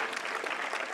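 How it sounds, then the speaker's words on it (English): Steady audience applause at a Toronto city hall poetry month recognition event, dense clapping throughout the second with no voices over it. "Another round of applause."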